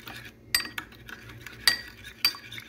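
A spoon stirs a chicken cube into hot water, giving three sharp metallic clinks against the container amid faint, close scraping.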